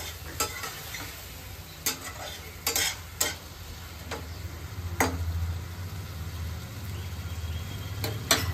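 Potatoes frying in a pan with a steady sizzle, while a utensil scrapes and clacks against the pan in irregular stirring strokes, nearby and with no talk.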